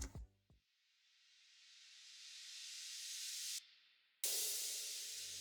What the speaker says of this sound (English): I took this big crash, I reversed it, and then I faded in the intro to kind of create this little riser.